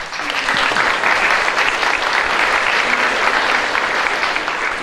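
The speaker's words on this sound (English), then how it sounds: "You can just hold the applause" Applause from a PorcFest debate audience fills the space as a dense, steady wash of clapping, loud and sustained with no voices over it.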